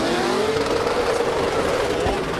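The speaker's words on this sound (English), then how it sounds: "Listen to this screaming of that car" A race car engine screams high and loud as it passes on a track, its pitch sweeping over a roaring, rushing background.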